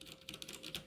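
A brief run of a few soft keystrokes on a Das Keyboard 4 Professional Stealth, quiet and close, with light tapping clicks.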